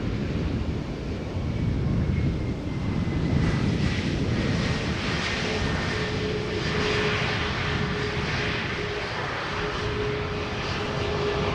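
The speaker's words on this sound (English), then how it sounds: "The A320neo arriving from Reykjavik. Touching down after 2 hours and 52 minutes." An Airbus A320neo airliner touches down at Schiphol, a broad, steady jet roar with wind buffeting the microphone, holding loud and even from start to finish with no talking.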